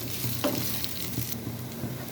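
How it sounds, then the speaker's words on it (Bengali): Sliced ash gourd and onions frying in a pan give a steady, close hiss of sizzling oil with faint stirring scrapes, unbroken for a couple of seconds and without speech. "আমি 1 মিনিট মতো এটাকে ভেজে নিয়েছি সব কিছু মিক্সড করে"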